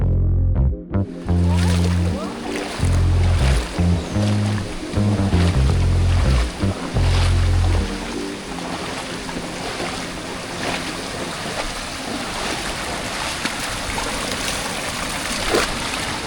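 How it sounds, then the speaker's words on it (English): A waterfall rushes through a canyon at the La Gloria thermal pools in Hidalgo, Mexico, a loud, steady roar of churning water with a heavier, thumping low rumble in the first half. "La Gloria provides thermal pools, camping areas, and this incredible waterfall canyon area."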